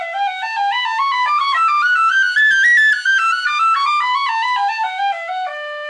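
Tin whistle playing a finger articulation exercise, a clear run of quick stepped notes that climbs and falls in one continuous breath, close and loud, played alone without speech.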